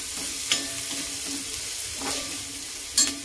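Dried shrimp and potato sauté in oil in a pan over a low flame, giving a steady soft sizzle broken by a few stirring scrapes, with no one speaking.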